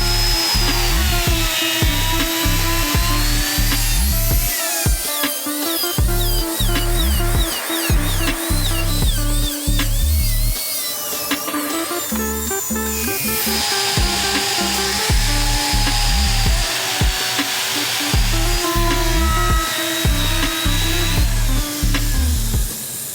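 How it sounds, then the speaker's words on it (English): Die grinder fitted with a knife bit carves deep creases into a large ice block for a cockatoo sculpture, a loud continuous high whine with rapid pulsing grinding bursts throughout. "One is a knife bit on a die grinder that establishes the deepest creases of the forms."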